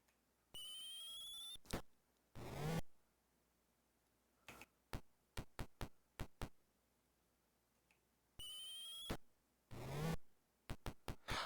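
A phone rings in short, high, trilling bursts that repeat twice, mixed with sharp clicking ticks in a quiet room. No voice is heard.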